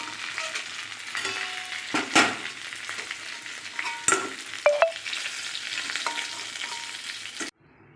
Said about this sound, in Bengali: গঙ্গার মাছ তো একটু ভালো করে না ভাজলে মানে হয় না।